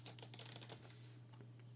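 Quiet, rapid keystrokes on a computer keyboard as a workspace name is typed, a short burst of clicks followed by a pause and a few scattered taps.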